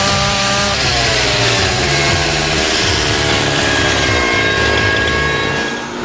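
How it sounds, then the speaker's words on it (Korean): Chainsaw cutting and trimming timber for a log house build, a loud continuous engine roar with shifting pitch as the blade bites into the wood, close and unbroken for the whole stretch. "전기톱으로 어떻게 이렇게 정밀하게 따르세요?"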